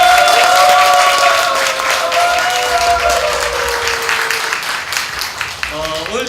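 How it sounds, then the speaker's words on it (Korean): An audience claps loudly and steadily, with a crowd's applause starting at full strength and slowly easing, while sustained musical tones play beneath and voices are faintly heard near the end. "자 우리 박수 한번 주세요."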